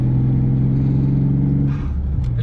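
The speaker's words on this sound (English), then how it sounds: "I love the sound of the colder intakes on these" BMW E36 M3 engine fitted with a Dinan cold air intake, growling with a steady, loud low rumble close by that rises slightly near the end, with no talking over it.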